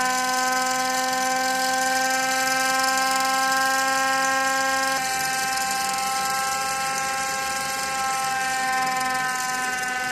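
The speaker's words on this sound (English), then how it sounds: "these fan modifications that turn our fans into quite literal sirens" A PC with its fans modified into sirens wails loud and steady, layered siren tones over a constant roaring whir with a hard drive churning, the pitch stepping down partway through.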